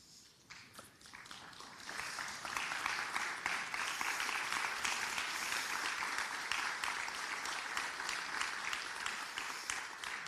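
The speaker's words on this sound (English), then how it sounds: "you do deserve that round of applause" Applause at a mayor's farewell address builds from scattered claps into steady, dense clapping from a standing crowd that keeps going at an even level.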